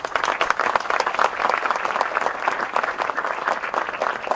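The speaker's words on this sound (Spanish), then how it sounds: "Les brindamos ese caluroso aplauso," Steady, dense applause from an audience honoring the presidents of Brazil and Bolivia at an official Bolivia–Brazil agreement-signing event, sustained at an even level throughout with no voices standing out.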